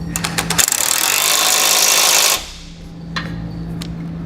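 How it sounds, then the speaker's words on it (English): A ratchet with a 12mm socket tightening bolts on a Blue Ox base plate kit fitted to a 2009 Subaru Forester, a fast run of close clicking for about two seconds, then a few faint taps. "Now we can come back with that 12mm socket and tighten down all the bolts."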